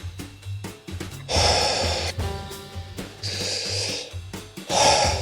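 A person doing a deep breathing exercise takes three loud, close, airy breaths, each rushing out for about a second. Short quiet pauses and softer inhales fall between the breaths.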